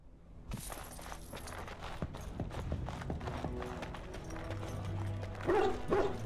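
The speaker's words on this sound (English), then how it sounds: "He's barking at that book." A dog barks among clopping hooves and footsteps in a busy Dragon Age: Origins game scene, with a louder burst of barking near the end.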